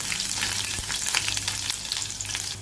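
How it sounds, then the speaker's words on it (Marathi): Garlic frying in hot oil for a bombil and potato masala, a steady close sizzle with soft crackles and occasional stirring scrapes throughout, no voices. "तेल तापले, तेलामध्ये लसूण परतून घ्यायचा गुलाबी होईपर्यंत।"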